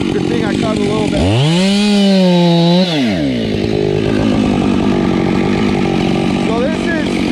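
A chainsaw revs up loud and close, its pitch rising and falling as it bites into a log while logging, then drops back to a rough idle.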